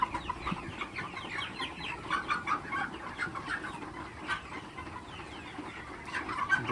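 Broiler chickens about forty days old cluck and chatter in a dense, continuous flock murmur inside a poultry farm, with no voices over it.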